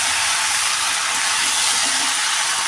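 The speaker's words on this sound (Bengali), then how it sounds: "এবার ভিজিয়ে রাখা সাবুগুলো দিয়ে এর সঙ্গে নাড়তে হবে।" Soaked sago stirred into a hot pan with fried paneer gives a loud, continuous sizzling hiss that stays even and close throughout, with no voices over it.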